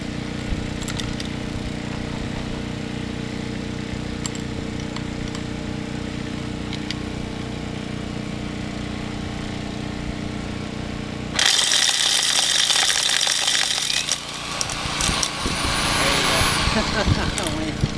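A Cobra Crusher rock crusher grinds gold-prospecting ore into fine powder, humming steadily with a droning engine before breaking into a louder, harsher rattling roar of crushing rock, with voices faintly beneath.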